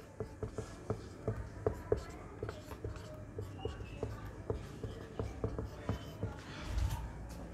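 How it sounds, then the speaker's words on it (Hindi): Chalk or marker strokes on a classroom board, a steady series of short scratchy taps and squeaks close by, with faint room noise and no talking over them. "अभी बस मैं लिख देता हूँ"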